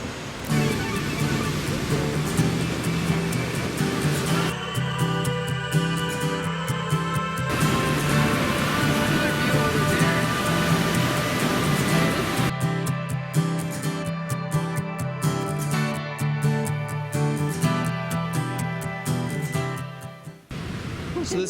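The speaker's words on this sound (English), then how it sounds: "But right now, let's check out the falls." Waterfall at Minneopa, near the ruins of an old mill, a steady loud broadband rush of falling water that continues with no pauses, with some low tonal rumble and faint voices mixed in.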